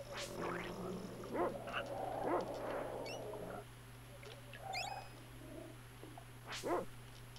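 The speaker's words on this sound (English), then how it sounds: "dogs are so annoying." Dogs barking in the video game Secret of Evermore, giving several short yips and barks spread across the stretch over a steady low game hum, fairly quiet.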